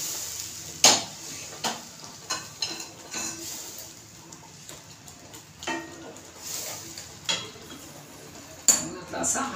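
A spoon stirs semolina sheera in a pan, giving a series of irregular metallic clinks and scrapes against the pan over a soft steamy background.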